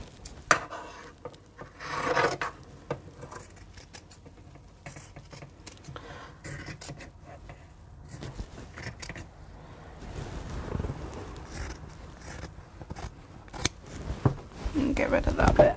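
Scissors snipping away bulk from the fabric sides of a Wesley tote bag, with short cutting and rubbing sounds in bursts, louder near the end, and a voice talking over them.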